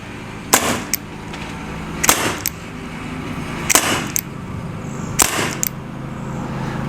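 A First Strike Roscoe paintball revolver fitted with an upgraded transfer port fires four loud, sharp shots, roughly one and a half seconds apart, each followed by a brief mechanical click.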